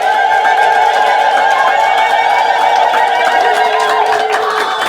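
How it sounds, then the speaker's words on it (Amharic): A congregation ululates in praise of God, a loud, dense chorus of high trilling voices that holds steady and unbroken from start to finish, close and filling the space. "እስቲ እልል ብላችሁ እግዚአብሔርን አመስግኑ"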